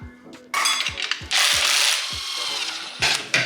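A hand ratchet clicks in quick rapid bursts while backing out the last bolt on a 2JZ-swapped Datsun 260Z, loud and close with brief metallic clinks between strokes.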